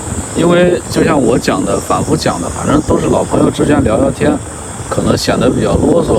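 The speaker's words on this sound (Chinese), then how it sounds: "就像在现在您听的这个虫叫的声音" Insects chirping at night outdoors around 12:30 a.m. near the Zhenjiang riverside and Zhenyang car ferry area in Jiangsu, a steady high drone under continuous close male speech.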